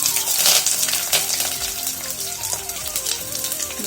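Mustard seeds spluttering and popping in hot oil, a dense crackle of sharp pops and sizzle running throughout, close and fairly loud with no voices.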